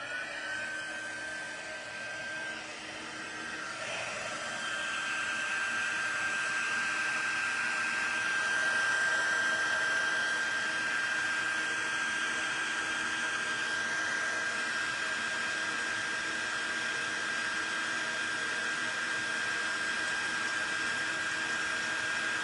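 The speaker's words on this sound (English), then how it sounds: "we're going to use our Stampin' Up! Heat tool on setting 2" A Stampin' Up! heat tool on setting 2 blows a continuous close-up whooshing drone with a thin whistling tone, running nonstop while melting embossing powder.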